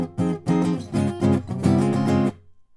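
Bass guitar plays the second bar of a bassline: a run of about seven or eight close, punchy plucked notes with a steady rhythm, played alone, ending in a quick decay to silence.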